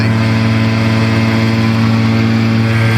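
A Challenger II ultralight aircraft engine throttled back in flight makes a loud, steady droning hum with even tone and no break, heard alone throughout.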